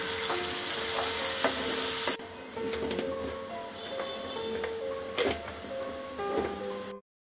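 Onion paste frying and being stirred in hot oil for a shrimp curry, with a steady close sizzle broken by scraping strokes and a few clicks as the pan is worked.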